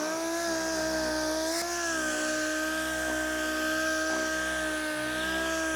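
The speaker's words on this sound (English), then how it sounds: "I'm gonna just take some 500 grit on my orbital DA and then run it all over the primer" Orbital DA sander running over primer with 500 grit paper, a continuous high whine with a steady hum beneath it, close and unbroken throughout.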